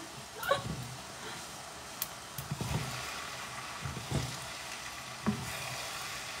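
Pancit bihon rice noodles stirred in a spinning frying pan, a soft steady sizzle broken by a few sharp scraping clinks of the utensil against the pan, moderately close and fairly quiet.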